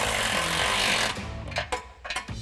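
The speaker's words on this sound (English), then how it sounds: "you can take a 16mm socket and 15mm wrench and tighten both of those down." Exhaust bolts on a 2021-2024 Ford Bronco axle-back exhaust are tightened with a 16mm socket and 15mm wrench, a buzzing rattle followed by several short metallic clicks and knocks, close up.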